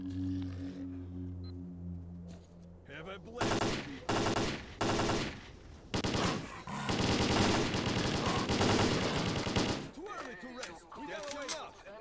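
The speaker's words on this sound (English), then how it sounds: "Why does it look like the bullets are exploding" Bursts of automatic gunfire with exploding bullets in S.T.A.L.K.E.R.: Clear Sky, loud, rapid volleys separated by brief pauses, following a quiet stretch with a low hum.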